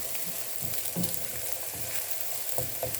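Potato fried rice sizzling in a pan while being stir-fried, a steady close crackle broken by soft scraping and clinking strokes of the utensil, with no voices.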